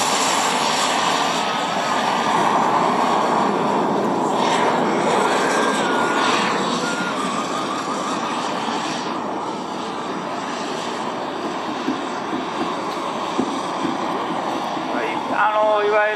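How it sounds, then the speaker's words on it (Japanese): JetSet F2A RC jet model aircraft at a flight show, flying slow aerobatics on turbine thrust alone: a continuous loud jet roar that swells and fades gently as it passes, with a commentator talking over it. "もうジェットの推力だけで今飛んでる状態です"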